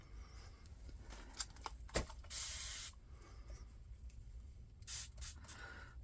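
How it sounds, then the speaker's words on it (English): Several short hissing spritzes from a spray bottle, one longer burst in the middle and a couple more near the end, with faint clicks of the trigger. "I could use my spray bottle. I'm just going to spray this."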